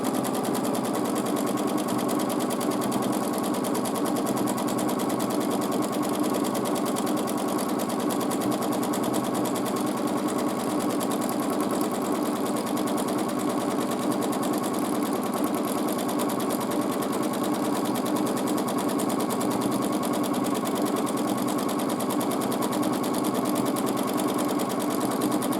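A sewing machine doing free-motion quilting of an all-over pattern in one continuous line runs at a steady, unbroken whir that stays loud and even for the whole stretch, with no talking.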